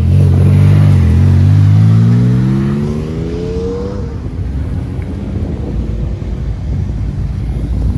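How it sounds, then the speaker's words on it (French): A track-prepared BMW E92 approaches and passes close by, its loud engine rising in pitch as it goes past, then fading into wind noise and distant rumble. "E92, préparé circuit qui arrive."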